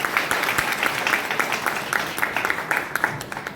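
Audience at the Miss South India 2025 beauty pageant applauds steadily, a dense patter of many hands sustained and fairly close throughout.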